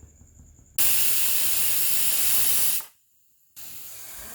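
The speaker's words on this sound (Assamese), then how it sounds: "আৰু 3টা হুইচেল মৰাৰ পিছত মই গেছটো বন্ধ কৰি দিলোঁ" Pressure cooker on a gas stove cooking khichdi, releasing a loud, broad steam hiss for about two seconds, cutting off abruptly, then hissing again after a short pause.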